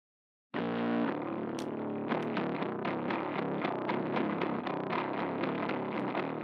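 A heavily distorted bass guitar, processed with plugin distortion and EQ for a 90s death metal sound, plays a steady, driving riff with gritty, fuzzy tone, loud and continuous throughout, with no other instruments or voices.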